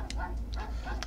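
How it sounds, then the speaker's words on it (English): Dogs barking in the video game Mega Man Legends: a few short, quick yips and barks over a continuous loud background of game music and ambience. "there's dogs"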